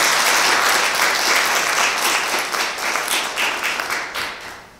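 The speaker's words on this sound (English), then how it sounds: "So maybe a big round of applause" A round of applause from an audience at a university thesis competition, loud and sustained at first, then thinning into scattered claps as it fades out.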